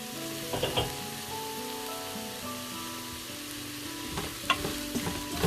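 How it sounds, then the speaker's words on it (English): Spices get stirred into frying onions for a homestyle lamb curry, a soft continuous sizzle under a few clinks and scrapes of a spoon against the pan, quiet and close. "Just going to give that a quick mix into my onions"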